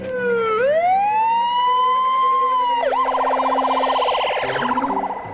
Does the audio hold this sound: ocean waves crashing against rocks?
no